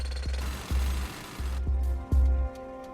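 A jackhammer carves into rock in bursts of loud, low pounding, four separate runs of hammering separated by short pauses, close and heavy.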